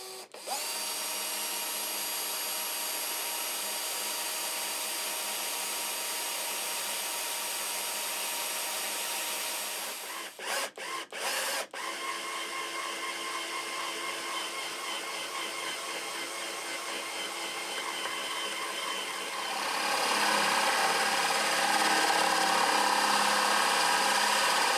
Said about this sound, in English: we're going to drill a small pilot hole first, and then we're going to come back with a spade bit and open it up completely